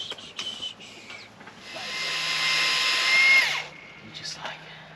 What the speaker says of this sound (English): Let's drill the hole in the second one though